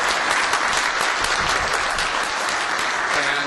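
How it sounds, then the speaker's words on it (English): A conference audience claps in a dense, sustained round of applause that stays loud and even throughout, with no voices standing out above it. "ask you to join me in a round of applause"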